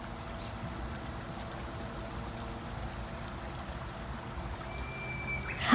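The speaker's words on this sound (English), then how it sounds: "I can hear the rushing water already." Steady rushing water fills the clip, a constant broadband roar from a waterfall near a hidden cave entrance in the Amazon, growing slightly louder toward the end, with no voices.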